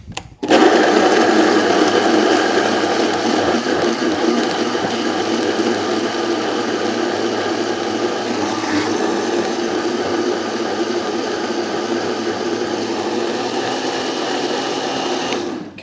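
Tomatoes whizzed in a blender, a loud steady motor whir starting abruptly and running continuously for about fifteen seconds, close and without talking.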